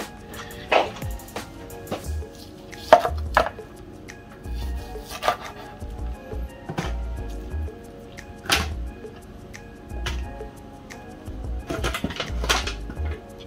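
Grilled meat is sliced on a cutting board. A knife lands in scattered, irregular thunks and taps with dull low knocks, spaced apart amid quiet kitchen background.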